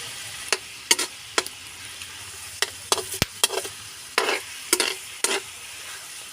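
Squid frying in a pan, crackling in short bursts and pops against a low steady background hiss, with quieter gaps between the spatters. No one speaks.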